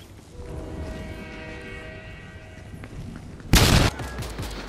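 Brief turret fire in the Fortnite video game crackles as a short, loud burst of pop shots near the end, following a stretch of tonal in-game hum and background sound, with no speech.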